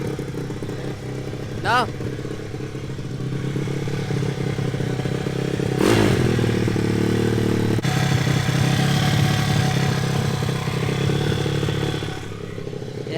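A 2014 SSR 160TX dirt bike engine idles high with a steady mid-pitched drone, mechanical clatter and brief revs, while people talk over it nearby.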